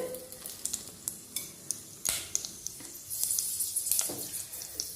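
Whole spices such as cinnamon, stone flower and other aromatics crackling in hot oil for tomato rice, a moderate sizzle punctuated by frequent sharp spatula clinks and scrapes, with a brief hissing burst midway.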